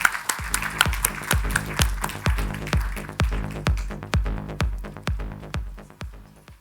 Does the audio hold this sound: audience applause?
yes